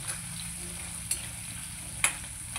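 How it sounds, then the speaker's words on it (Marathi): Chopped onion frying in a pan over high heat for paneer chilli, a soft continuous sizzle close by with a couple of sharp clicks of a spoon stirring. "कांदा तळून घेते मी याच्यामध्ये."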